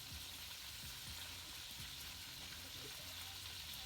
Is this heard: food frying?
yes